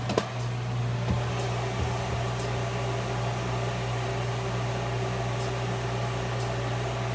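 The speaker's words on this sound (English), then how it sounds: "I can hear this thing pulling a vacuum" Steady mechanical hum with a low droning tone, continuous and unchanging, from a vacuum pump pulling a vacuum nearby, with faint clicks early on.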